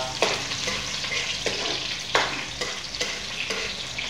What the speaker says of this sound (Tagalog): Magisa nga tao, onion, sa mainit na mantika